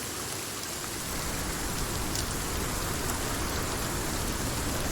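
Steady rain in the survival video game 7 Days to Die, a constant hiss of falling drops that sits at an even, moderate level throughout with no talk.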